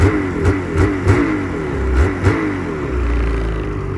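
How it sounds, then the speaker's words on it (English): A 2024 Ski-Doo MXZ XRS 850 E-TEC snowmobile engine revs in several sharp bursts, each rising and falling, followed by a steadier sustained drone near the end, loud and close with no talking. "these 850s are a really smooth running engine with all the power you'd ever need"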